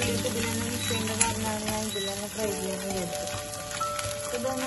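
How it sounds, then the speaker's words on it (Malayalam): Dried fish and coconut fry together in a pan for chammanthi, a continuous close sizzle and crackle with occasional stirring sounds. "ഇത് ഏകദേശം നന്നായിട്ട് തന്നെ ഫ്രൈ ആയിട്ടുണ്ട് കേട്ടോ"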